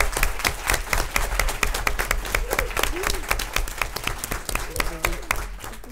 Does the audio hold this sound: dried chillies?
no